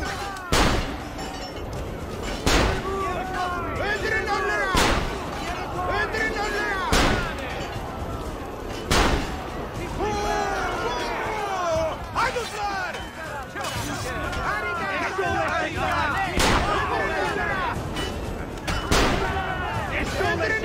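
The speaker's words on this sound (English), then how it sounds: "Time for the gun." Heavy gunshots from the player's gun in Assassin's Creed Revelations ring out at roughly two-second intervals, each a sharp loud blast over a busy game soundscape, with a person talking through the shooting.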